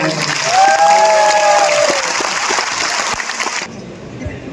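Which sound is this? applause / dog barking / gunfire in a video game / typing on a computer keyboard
applause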